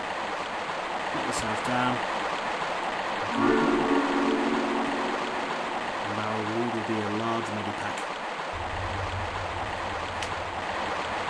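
A waterfall in Tomb Raider 1 Remastered, in the Peru level, gives a steady rush of water throughout. A voice speaks over it, and a few tonal game sounds come and go.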